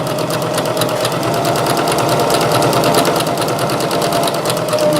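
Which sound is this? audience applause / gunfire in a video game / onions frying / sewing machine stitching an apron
sewing machine stitching an apron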